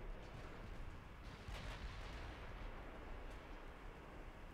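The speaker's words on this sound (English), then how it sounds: "There's so many rounds coming in." Naval gunfire from warships in the Ultimate Admiral Dreadnoughts video game produces a continuous, fairly quiet rumble of distant shell fire and impacts, with dull booms running together throughout.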